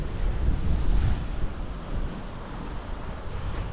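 Surf and steady wind roll in at Studland Beach on the Jurassic Coast, a broad wash of breaking waves swelling near the start and easing off, with gusts buffeting the microphone throughout.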